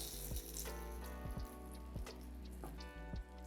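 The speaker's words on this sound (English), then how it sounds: "Now that our oil is nice and hot, I'm gonna take the ground beef and lay it outward into the pan" Ground beef laid into hot avocado oil in a pan sizzles and crackles steadily, with a few sharper pops and spits scattered through, close and moderately loud with no talking.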